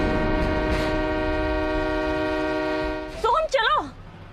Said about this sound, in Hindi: ट्रेन चलने वाली है